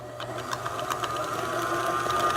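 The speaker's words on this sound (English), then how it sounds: "We'll turn the mixer back on and incorporate that into the butter." Electric stand mixer creaming mushrooms into butter, a continuous loud motor whir with fast mechanical rattle, steady and close throughout.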